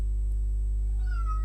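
A cat gives a single drawn-out meow that rises and then fades, heard fairly close over a steady low electrical hum, with no one talking.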